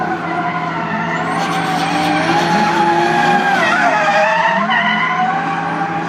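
A roughly 500-horsepower BMW M3 drifting in a show demonstration at the 2013 International Motor Show in Luxembourg: loud, sustained tire squeal and skidding over a continuous roaring engine, with shifting pitch as the car slides.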